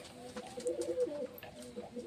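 Soft, low cooing of a fancy pigeon in a few murmuring phrases, close by, with faint background noise and no talking.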